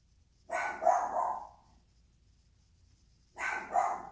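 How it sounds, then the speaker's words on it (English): Two short bursts of dog barking, separated by a few seconds of quiet, moderately close. "Sorry about the barking in the background."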